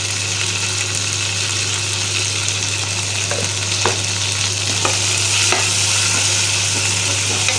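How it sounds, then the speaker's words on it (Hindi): Tomatoes, green chilies and salt frying in a pan for egg kheema masala, a loud continuous sizzle with scraping stirring strokes and a low steady hum underneath, no talking. "और टमाटर भी साथ में गल जाएगा और सब अच्छे से फ्राई करना है कुछ देर"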